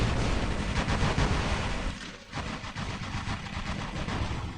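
Robot weapons in the mech combat game War Robots fire in a dense, sustained barrage of rapid gunfire and blasts, loud and close, with a brief lull near the middle before the volley resumes.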